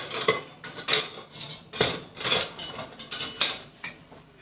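A palette knife clinks and scrapes against a bowl or dish of whipped cream in a series of close, light metallic taps and rubs, with no voices.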